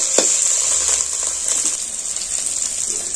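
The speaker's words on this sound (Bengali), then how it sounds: "এটা একটু লাল করে ভেজে নিতে হবে, যাতে একটা ভাজার সেন্ট আসে" Ginger sizzles in hot oil in a pan, a steady close frying hiss running throughout with a few soft stirring scrapes.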